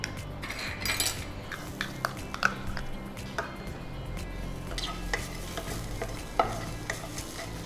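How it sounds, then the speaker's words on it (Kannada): Coconut is stirred into capsicum sabzi frying in a pan: a steady sizzle runs throughout, with repeated scraping strokes of a spoon against the pan and occasional sharper metal clinks. No one speaks. "ಈಗ ತೆಂಗಿನಕಾಯಿ ಹಾಕ್ತೇನೆ."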